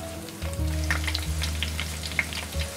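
Chili oil simmers with ginger, whole dried chilies and Sichuan pepper, a dense crackling bubble of hot oil over a low steady hum, close and continuous.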